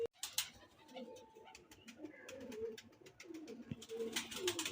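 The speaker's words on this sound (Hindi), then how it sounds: "ये उस्ताद जी का फेवरेट कबूतर है।" Pigeons of a fancy Teddy breed cooing in a loft, soft low coos repeating under scattered chirps and rustling, with light background talk.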